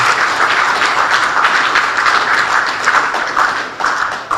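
A large audience at a university gathering in northern Nigeria gives sustained, loud applause, a thick continuous wash of many hands clapping with no break and no talk.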